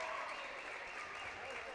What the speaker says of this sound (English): so Watts can get an applause